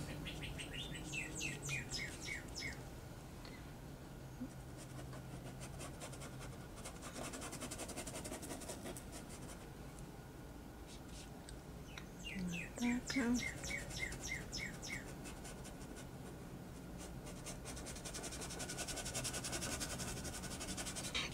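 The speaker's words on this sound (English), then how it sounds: "Enjoy the birds singing." Birds sing outdoors in repeated bright chirps and trills, coming in bursts at moderate distance over a low background hum, with no voices.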